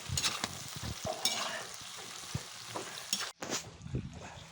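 Onions frying in a cauldron over a campfire for bograch, with a continuous sizzle broken by clattering stirs and scrapes at irregular intervals, close and fairly loud.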